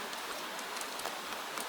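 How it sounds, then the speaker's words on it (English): Gentle rain on a rainy Victorian London street at night, an even, hissing wash of fine drops tapping continuously with no voices. "Outside, the rain goes on tapping and whispering"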